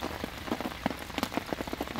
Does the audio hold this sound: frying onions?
no